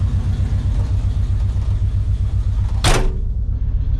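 A 1972 Chevrolet C20 truck engine idles with a steady, rhythmic low rumble close by, interrupted near the end by a short sharp burst of noise before the idle carries on.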